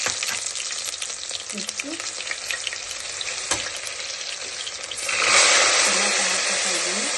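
Onions dropped into hot oil with popping mustard seeds, a steady sizzle that swells louder partway through as they hit the pan, with a brief spoken word and occasional clinks of stirring.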